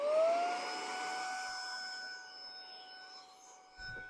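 A Saker handheld mini vacuum cleaner hums steadily with a high whine, its pitch sliding upward as it spins up and then holding a constant tone, fairly quiet and close.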